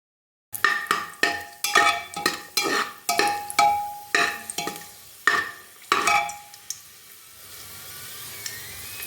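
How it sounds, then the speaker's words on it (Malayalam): Cashews and raisins are stirred in a pan as they fry in ghee, about a dozen sharp rhythmic scraping strokes close by, then a quiet steady sizzle alone. "ഈ പരിപ്പ് മുന്തിരിയൊക്കെ നല്ല ഫ്രൈ ചെയ്തെടുക്കണം"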